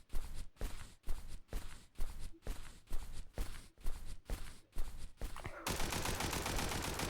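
Rapid bursts of gunfire in a video game, a regular rhythmic string of loud shots that gives way to a denser continuous rattle near the end, with no talking over it.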